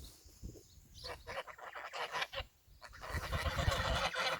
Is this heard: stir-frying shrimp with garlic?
no